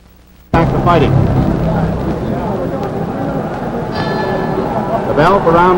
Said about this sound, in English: The bell for round number 5.